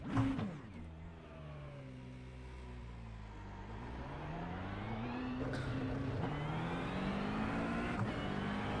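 McLaren GT3 race car in a racing video game at the Nürburgring GP circuit, its engine droning steadily and climbing in pitch as it accelerates through the gears, loud and close, with no talk.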